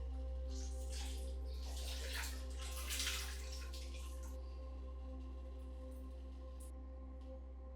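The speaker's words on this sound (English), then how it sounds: "Then I rinse it out with cool water." Water running steadily from a tap over hair being rinsed of conditioner with cool water, a continuous splashing hiss at moderate level with a low steady hum beneath, no talk.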